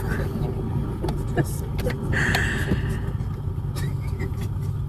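An airliner taxiing on a runway before takeoff on a flight from South Africa to Kenya, with a steady low engine rumble and scattered clicks and cabin noises under faint voices.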